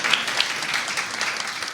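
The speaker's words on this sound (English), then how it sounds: "One more big round of applause." A big round of applause from a live audience for a presenter at an early-career pitch competition, steady dense clapping with a couple of brighter accents near the start.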